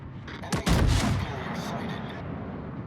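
Naval gunfire from warships in a video game, a single heavy boom followed by a rumbling decay over steady background noise.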